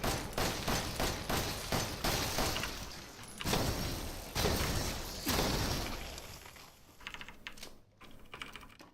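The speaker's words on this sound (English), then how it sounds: "That was some good quick shooting though." Rapid bursts of gunfire in Resident Evil 7, dense clattering shots in quick succession, loud and close, thinning out toward the end.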